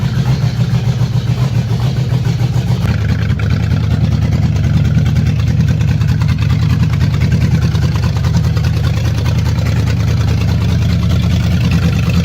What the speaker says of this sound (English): We'll do a cold start and roll her out here